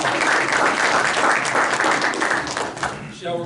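An audience at a magic show claps loudly and steadily in a full round of applause that fades slightly near the end, with a voice speaking over it.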